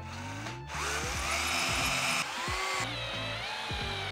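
A power drill whirs steadily for several seconds, its motor pitch rising and dipping as it drives screws to mount a light strip, close and loud without pause.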